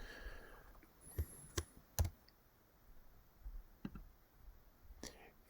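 Quiet, sparse clicks of typing on a computer keyboard while entering email addresses, a few isolated taps spread over several seconds against a faint background hiss.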